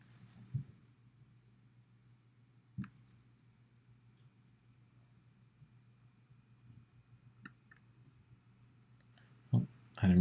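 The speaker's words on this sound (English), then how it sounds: "I didn't mean to click that one." Scattered sharp clicks of a computer mouse during a color game, sparse and faint over a low steady electrical hum, with a cluster of louder clicks near the end.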